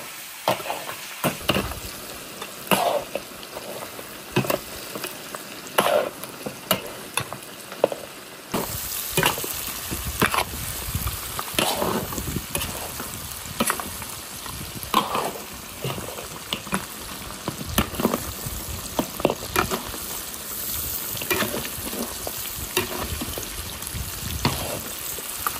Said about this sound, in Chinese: 搞一点老冰糖，再炒个十分钟